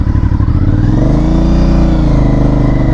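An Aprilia Shiver 900 motorcycle engine revs loudly and close, with a dense, pulsing mid-range drone that swells and eases over a few seconds, and no talk.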